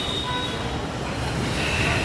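A metro rail train rumbles steadily with a continuous low roar and faint high wheel tones, heard from on board or close by without pause.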